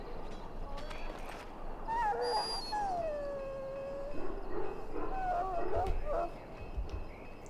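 A hound in Dragon Age Origins, sick from swallowing Darkspawn blood, lets out high, drawn-out whimpers and whines over a low ambient game backdrop.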